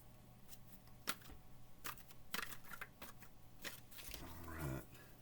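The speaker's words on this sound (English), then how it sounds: "I'm going to give these cards a shuffle" Oracle cards are shuffled quietly close by, producing irregular soft clicks and papery riffles in short bursts, with a brief flutter near the end.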